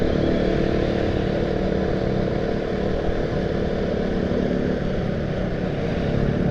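A motorcycle pulling away in morning commuter traffic in Bekasi, its engine a steady loud drone throughout, close and continuous with no break or talk.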